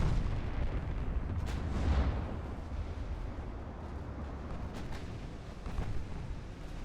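Naval gunfire in Ultimate Admiral Dreadnoughts, 9-inch and 8-inch shells striking the ship Tenedos: a low, rolling rumble of distant cannon booms and impacts, with a couple of sharper bursts, moderately quiet and steady throughout.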